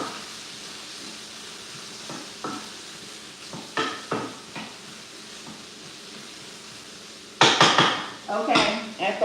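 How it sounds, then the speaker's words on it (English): A utensil stirs food in a metal pot while cooking turkey wings, with scattered clinks and scrapes against the pot, then a louder burst of clattering strokes near the end over a faint background sizzle. "this is mine to stir my stuff up with"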